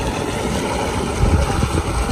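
A solar-powered water pump motor runs with a steady, broadband rushing drone of pumping and flowing water, loud and continuous, with a slight rumbling swell partway through and no voices.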